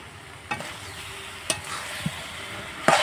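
Elephant apple pickle being stirred in a hot pan, with a soft, steady sizzle underneath and a few scraping strokes of the spoon, close by and without any voices.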